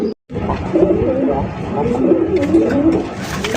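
Large fancy pigeons, including a colored Rasgulla breed, coo in a breeder's loft: a series of low, throaty, rolling coos repeating close by, with faint rustling around them.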